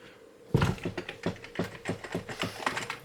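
Keys pressed on a keyboard connected to an Amiga 500, a burst of quick, uneven clacky taps starting after a brief quiet moment and continuing closely at a brisk rhythm, no talking.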